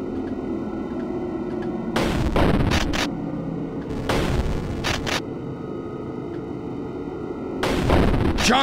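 Gunshots in the FAITH horror video game, three loud crunchy bursts of distorted firing spaced a couple of seconds apart over a constant buzzing drone.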